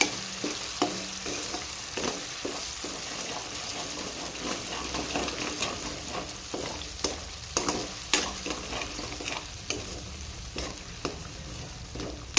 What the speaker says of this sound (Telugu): ఇది నూనె కొంచెము పైకి వచ్చేదాకా వేపాలి ఫ్రెండ్స్